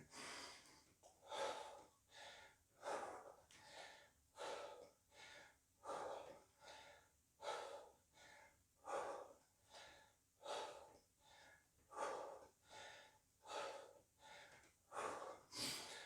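Heavy, rhythmic breathing during a home circuit workout of press-ups and bodyweight exercises, steady in-and-out breaths repeating about every second, close and fairly faint, with no talk over them.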